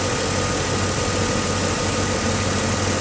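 A 1989 GMC S15 pickup truck engine idles steadily and loudly up close, a continuous low rumble with no other sounds over it.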